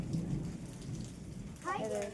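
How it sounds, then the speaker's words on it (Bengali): A heavy hailstorm with pouring rain, a dense steady roar of falling rain and hail with a deep rumble of thunder beneath, and a brief tonal sweep near the end. "কি শিলাবৃষ্টি বন্ধুরা দেখলে কত শিলাবৃষ্টি হচ্ছে"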